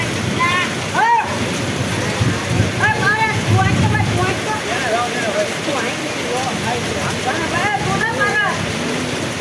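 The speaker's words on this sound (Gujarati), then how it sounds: "વરસાદ આવી ગયો" Rain falls hard in a constant loud wash, while voices talk over it and break through now and then.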